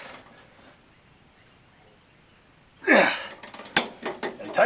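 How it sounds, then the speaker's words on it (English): A gear wrench ratchets while the front shock on a 1964 Ford Falcon is tightened: quiet at first, then a burst of close metallic clicking and scraping strokes in quick uneven pulls. "And this is why I'm using a gear wrench for this."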